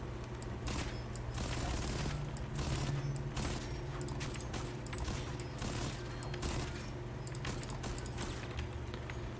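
Modded rifle gunfire in Fallout 4, a rapid run of repeated shots fired in quick bursts across the whole stretch, loud and close with mechanical clatter.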